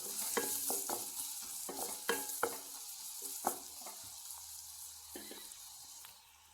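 Cumin seeds frying in a pan of oil for a rava breakfast dish, crackling sizzle punctuated by repeated sharp spoon scrapes and stirs, close and fairly loud, easing off toward the end.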